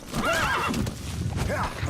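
A horse whinnies twice, a long neigh then a shorter one, over a dense rumble of hoofbeats and game ambience.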